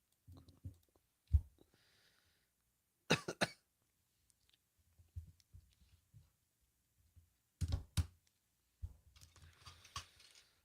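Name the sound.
cough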